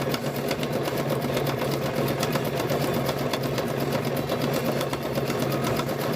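A sewing machine runs steadily, stitching a car seat cover, its fast even needle rhythm continuous and close throughout with no talking.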